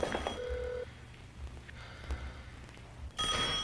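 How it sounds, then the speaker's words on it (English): A telephone rings during a hostage standoff drama, with a brief tone early on followed by a quieter stretch and a louder burst of ringing near the end. "We're gonna answer the phone."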